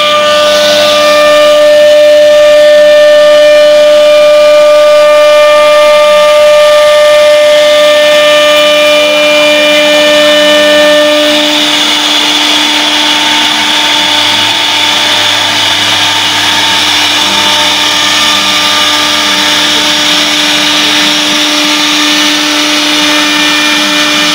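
A CNC machine carving designs into wood whines loudly with sustained steady tones, a continuous mechanical drone that shifts pitch midway, close up with no talk.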